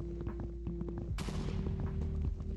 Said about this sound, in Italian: sento esplosioni a profusione